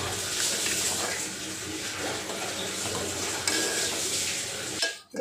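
Herbal kadha boiling in a pot while being stirred, giving a steady bubbling, scraping wash that runs continuously at close range before stopping abruptly near the end.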